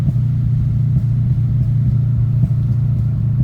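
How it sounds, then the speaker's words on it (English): A tuned Toyota Corolla engine running on a DET3 system with a popcorn tune idles near and loud, its low, steady rumble broken by small irregular pops. "I flick the button down here and popcorn tune."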